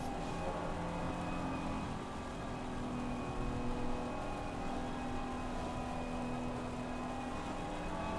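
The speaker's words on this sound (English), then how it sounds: "the engine not revving very high at all as they get through the S's in these conditions" GT racing car engines in Assetto Corsa Competizione drone at low revs as the cars tiptoe through the esses at Circuit of the Americas in tricky conditions. The hum is steady, fairly quiet and continuous, with no audible speech.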